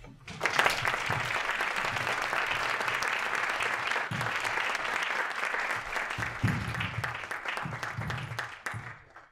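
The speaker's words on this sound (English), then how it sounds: "Let us welcome Professor Immanuel Wallerstein with a warm round of applause." A conference audience gives a warm round of applause to welcome a professor, steady and full throughout with a few louder claps standing out near the end.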